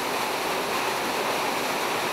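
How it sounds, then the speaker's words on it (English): A waterfall roars as a steady, dense broadband rush of falling water, loud and unbroken throughout, with no other sounds standing out. "Just the other side of the waterfall"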